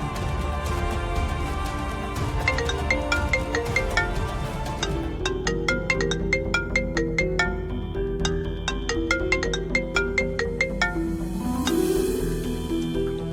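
A phone ringtone for an incoming call, a bright melodic electronic tune repeating in quick regular pulses for over ten seconds, loud and clear over a soft background drone.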